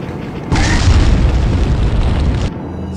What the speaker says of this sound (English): I'm just gonna keep throwing grenades until you stop getting up